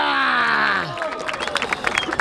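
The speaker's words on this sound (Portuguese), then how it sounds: "Palmas nessa batalha, família!" At a rap battle, the crowd's cheering and shouting swell loudly, then give way to scattered, uneven clapping from the audience as the voices die down.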